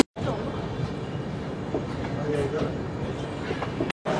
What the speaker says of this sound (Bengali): গয়া জংশন ঢুকছে, এখানে ট্রেনটা দাঁড়াবে 5 মিনিট মতো।